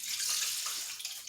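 Water pours steadily into a fruit steamer pot, a close, hissing, splashy stream that runs the whole time with no talking.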